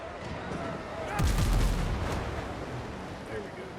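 Cannon fire from a video-game naval battle aimed at a gunboat: a burst of booming shots around the middle of the clip over steady background noise.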